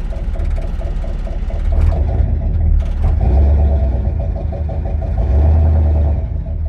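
A 1969 Mercury's engine idles with a steady low rumble and mechanical ticking, then a clunk is heard as the transmission goes into gear, with brakes dragging, the running engine continuing close and loud throughout.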